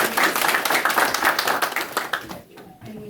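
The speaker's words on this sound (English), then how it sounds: "So if you can clap for him." Audience at a Lions Club signing ceremony claps steadily in dense, fairly loud applause that thins out near the end.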